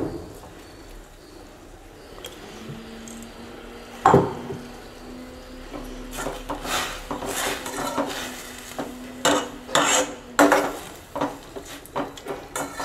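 A tamarind mixture seasoned with rock salt is stirred in a pot for bitter gourd pachadi. A spoon knocks, scrapes and clinks against the pot in irregular bursts that grow busier toward the end, with no voices.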